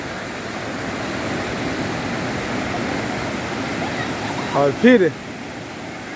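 Sea waves at Gokarna, Karnataka, near a hillside temple, form a continuous rushing surf wash that fills the whole span, with someone speaking briefly over it near the end.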